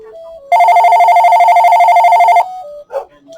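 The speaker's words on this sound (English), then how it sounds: "here's the phone ringing" A home telephone rings loudly with one sustained electronic trill lasting about two seconds, followed by a brief softer tone and a short sound before it stops.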